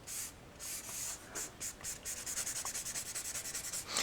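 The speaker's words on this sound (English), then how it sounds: "You can try scrubbing around like this." Colour being scrubbed onto paper for stamp art with purple stardust tones, giving a soft, close, dry rubbing that settles into quick regular back-and-forth strokes, quiet and steady with no voices.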